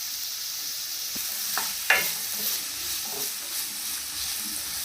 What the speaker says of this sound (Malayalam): ഇതിലേക്ക് കുറച്ച് ഉപ്പും കൂടെ ചേർത്തിട്ട് നമുക്ക് വഴറ്റാമേ